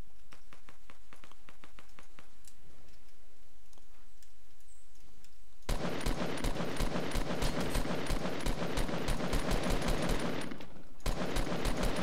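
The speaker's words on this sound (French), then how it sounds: "Il y a un mec en face qui tire." Rapid automatic gunfire from an enemy player in a Fortnite match, first faint distant clicking shots, then a loud, sustained burst of close fire that breaks off briefly and resumes.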